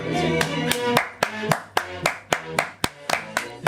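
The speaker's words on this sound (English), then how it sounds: "I'm going to clap the downbeat, and it's going to clap the horn stabs." Sharp, evenly spaced hand claps land on the downbeat over a playing theme song, about a dozen crisp claps in steady rhythm on top of the music.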